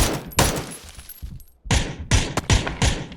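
Bursts of PUBG gunfire crack out, a few sharp shots and then a rapid cluster of loud, punchy reports with brief gaps between.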